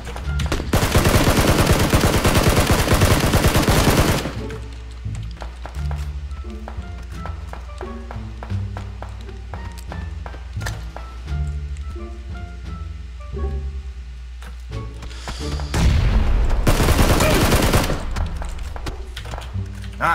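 Loud bursts of automatic gunfire from a PUBG battle, heavy volleys at the start and again near the end, with scattered single shots and thuds in between.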